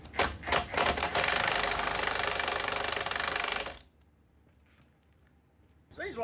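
A large impact wrench hammers on steering knuckle bolts during a Jeep JK teardown: a few short taps, then a loud, sustained rattling burst of about two and a half seconds, followed by quiet.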